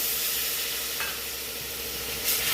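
Spice paste with turmeric and a splash of water sizzles and is stirred in a pan for masala soyabean. A close, steady hiss runs throughout with scraping stir strokes, and a brighter burst of spatter comes near the end.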